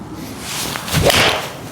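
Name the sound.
golf iron striking ball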